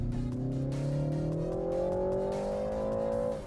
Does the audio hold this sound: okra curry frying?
no